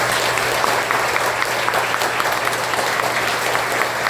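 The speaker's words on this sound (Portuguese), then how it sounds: "uma salva de palmas para Jesus" Steady applause from an audience at a Spiritist doctrine lecture, dense and loud, sustained evenly throughout with no pauses.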